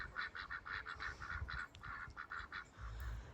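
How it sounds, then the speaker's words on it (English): A group of garden ducks quacks in quick, rhythmic bursts at a moderate distance, a steady run of calls with no talking over it. "Hello, ducks."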